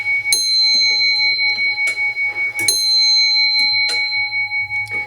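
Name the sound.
mechanical clock chiming and playing music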